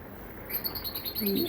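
Faint, high, repeated peeps of small quail chicks chirping close by over a quiet background.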